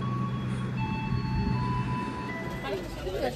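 A train rolls past on an Indonesian railway line near a passenger train bound from Cikarang to Jogja, a steady low rumble with faint high squeals, moderately distant and continuous.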